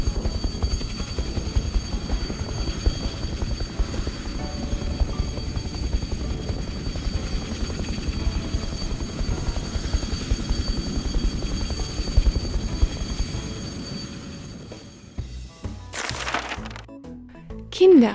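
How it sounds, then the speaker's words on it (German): A cartoon heavy transport helicopter carrying an airplane flies with a dense, steady rotor chop and engine drone for about fifteen seconds, then fades as other short sounds follow. "Der riesige Transporthubschrauber nimmt ihn mit und bringt ihn zur Werkstatt."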